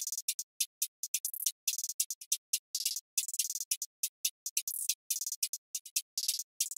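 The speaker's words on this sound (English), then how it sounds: "I found this hi-hat pattern, just this loop on Splice" Drill-beat hi-hat loop from a sample pack, crisp and bright, ticking in a steady pattern broken up by fast rolls and glitchy stutters, with nothing else playing.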